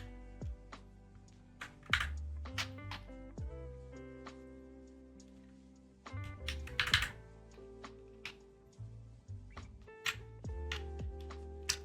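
Fingers type on a clicky GMMK 96% mechanical keyboard, producing close, crisp clacks in uneven bursts and runs with brief pauses between, fairly quiet and with no speech over it.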